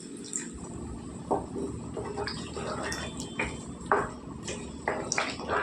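About half a glass of water is poured into a pan of cucumber and brinjal curry, giving soft splashing and trickling with light metallic pings and drips, fairly quiet and close.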